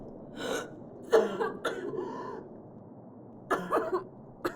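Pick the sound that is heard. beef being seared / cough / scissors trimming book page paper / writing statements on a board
cough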